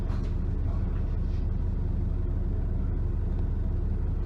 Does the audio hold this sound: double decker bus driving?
yes